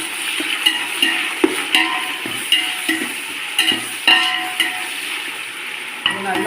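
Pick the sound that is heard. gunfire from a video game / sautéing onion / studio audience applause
sautéing onion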